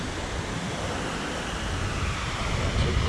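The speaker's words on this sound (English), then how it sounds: "Crossing the creek under the waterfall." A creek flows beneath a waterfall, giving a steady, broad rush of water close by with no voices.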